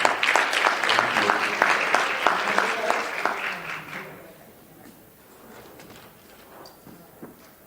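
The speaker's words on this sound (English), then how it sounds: "Let's give her a round of applause." An audience at a museum presentation breaks into loud applause that crowds the first four seconds, then thins to a few scattered claps and room noise.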